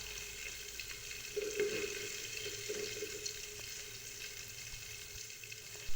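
Crispy chicken deep-fries in oil over medium heat, a steady soft sizzling hiss with faint bubbling, close but quiet, with no talking.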